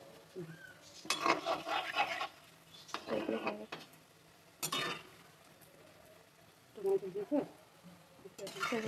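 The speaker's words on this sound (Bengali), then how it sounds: "আমি একটু খুন্তি দিয়ে নাড়িয়ে দিচ্ছিলাম তালের বড়াগুলো" A metal spatula stirs palm fritters (taler bora) frying in a pan, making several separate bursts of scraping and clattering over a faint sizzle, with pauses between them.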